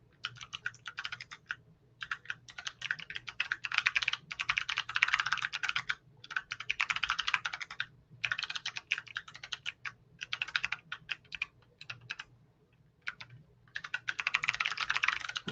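Rapid keystrokes on a computer keyboard, heard close up in bursts of busy typing separated by short pauses, with no talking.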